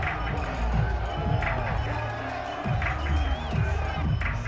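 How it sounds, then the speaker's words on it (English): Stadium crowd in a Madden 22 football game, Jets vs Falcons in London, cheers and murmurs steadily at moderate volume beneath a commentator's voice. "Crowd getting in it a bit already"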